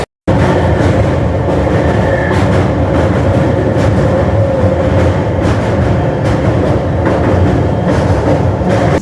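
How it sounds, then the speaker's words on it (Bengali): A train crosses the Hooghly Ghat bridge, heard from on board as a loud, continuous rumble with a steady metallic rattle and rhythmic clatter of the wheels. The noise begins abruptly and holds for the whole stretch, with no talking. "এখন আমরা পার করছি হুগলিঘাট ব্রিজ"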